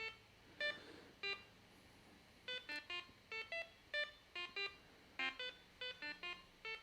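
A little electronic beep from a programming sketch repeats many times in short, bright tones, first sparse, then a quick irregular rhythm, with quiet gaps between.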